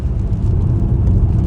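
Nissan Ariya all-wheel-drive electric car pulling away hard in a short launch, heard from inside the cabin as a loud, steady low rumble of road and drivetrain noise with no engine note.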